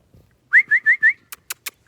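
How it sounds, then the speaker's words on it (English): Person whistling to call a dog: four short rising whistle notes in quick succession, close and loud, followed by three sharp clicks or claps. "We whistle to call our dogs."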